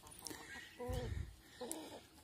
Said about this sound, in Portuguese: Aí eles aí, minhas galinhas.